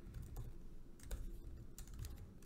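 Close, steady keyboard typing on a computer keyboard with irregular clusters of keystrokes over a low background hum, with no voices.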